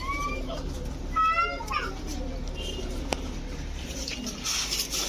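Pigeons coo in short throaty calls alongside brief chirps and a sharp click, over a noisy background with distant children's voices.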